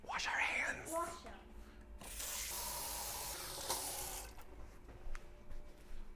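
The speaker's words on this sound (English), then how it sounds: "Wash our hands." Hands washed under a running tap, a steady hissing spray of water lasting a couple of seconds amid brief rustling and a short bit of speech at the start.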